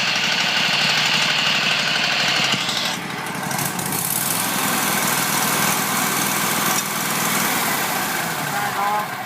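A 3940 stump grinder engine runs steadily at idle with a continuous low mechanical drone and rattling vibration, close and loud throughout, while people talk over it.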